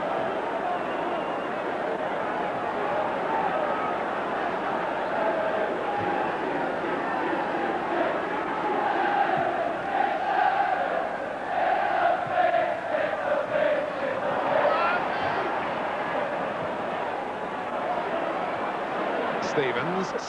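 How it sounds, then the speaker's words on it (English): A packed First Division football crowd at an Everton v Chelsea match roars steadily and continuously, a dense wall of noise with someone talking over it throughout. "the roars from the crowd calling for a penalty"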